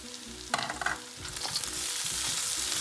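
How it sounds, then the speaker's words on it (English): Egg fried rice with raw cashew nuts sizzles loudly in a pan over high heat while a utensil scrapes and stirs through it with a few quick clacks, the frying hiss building steadily. "You stir nicely to combine."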